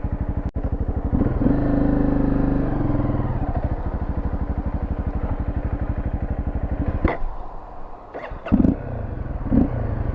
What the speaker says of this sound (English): I've never seen a fuel-injected bike just stall on its own.